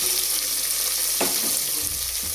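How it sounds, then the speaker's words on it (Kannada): Sliced onions frying in a pan for biryani, a dense continuous hiss with a couple of brief stirring knocks, close and steady. "ಈರುಳ್ಳಿ ಚೆನ್ನಾಗಿ ಫ್ರೈ ಆಗಬೇಕು."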